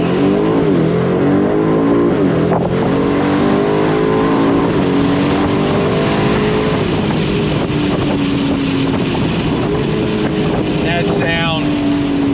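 An Aston Martin DB12 Volante engine pulls hard on throttle, a loud, rising roar that climbs through the gears with wind rush, heard from inside the open car, and a voice talks over it.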